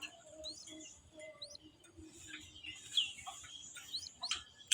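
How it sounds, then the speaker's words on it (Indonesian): Zebra dove chicks chirp and peep in short high calls, scattered across the clip with a faint hum underneath, close by and fairly soft. "Ya anaknya tetap bunyi dan cicit karena mungkin kedinginan."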